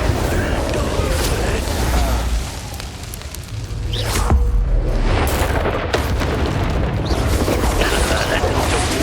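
Incendio fire spell cast in the video game Hogwarts Legacy, a loud booming burst of flame amid dense combat noise, with a brief whoosh midway and a voice speaking over it.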